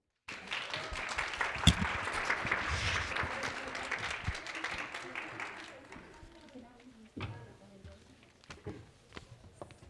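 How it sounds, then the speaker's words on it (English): A panel-discussion audience applauds as a guest is called up, dense clapping with some cheering that swells early, then thins out and fades toward the end. "let's give a big round of applause for Mr. Sam Raheel"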